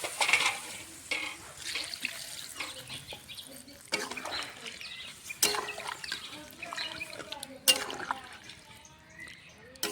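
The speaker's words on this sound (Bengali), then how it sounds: "একটু জল দিয়ে দেবো।" Water is poured into a pan of fish roe and potato curry, producing irregular splashing and bubbling with sharp spattery bursts that sound close and moderately loud.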